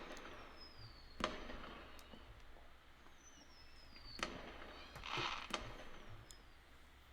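Fireworks at a festival in the visual novel game Angels with Scaly Wings: sporadic distant bangs and sharp cracks with a brief crackling burst, faint over a low steady background.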